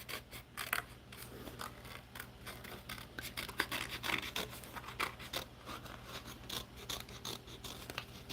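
Scissors cut steadily through paper for an altered book, a continuous close run of snipping and rustling strokes with no voices.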